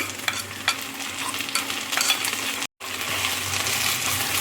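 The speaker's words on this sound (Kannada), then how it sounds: "ಈಗ ರುಬ್ಕೊಂಡು ಇಟ್ಟಿದ್ದ ಮಸಾಲ ಹಾಕೊಳ್ತಿದ್ದೀನಿ" Ground masala paste added to browned onions in a pan for an egg pepper roast, giving a steady close frying hiss with scattered stirring scrapes and a brief dropout near the end, with no talking.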